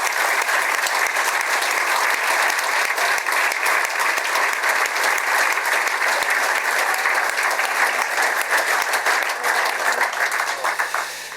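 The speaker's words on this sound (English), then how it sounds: "I think we deserve a round of applause." Sustained, dense applause from a live audience at an in-conversation event honouring a former Ipswich Town manager, steady and loud throughout before tapering slightly at the end.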